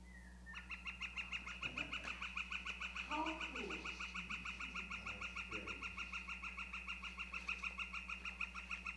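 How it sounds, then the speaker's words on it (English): A recorded northern flicker gives its long, rapid series of repeated call notes, a steady even rhythm carried on for several seconds over a constant electronic hum from playback in a lecture room, with a few faint scattered room sounds. "So everybody know what a flicker sounds like now?"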